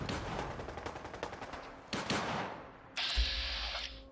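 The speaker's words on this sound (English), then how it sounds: "somebody else is shooting" Fallout 4 gunfire: a fast rattle of automatic shots, then a few sharper single blasts and a ringing burst near the end, moderately loud and close over the game's ambient noise.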